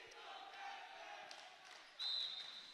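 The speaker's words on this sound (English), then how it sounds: "Again, the crowd chanting, he's a freshman." At a boys varsity volleyball match, a gym crowd chants rhythmically in the distance, and a sharp whistle blast cuts through near the end.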